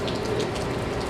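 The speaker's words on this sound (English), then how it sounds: "It's constantly raining." Steady rain falling and splashing on surfaces outdoors, a dense even patter with no breaks.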